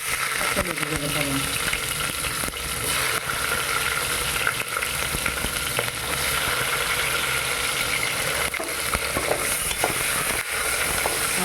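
Garlic and onion fry loudly in a pan with hot oil and cumin seeds for sambar vegetable rice, a steady dense sizzle with occasional stirring clatter and no talk.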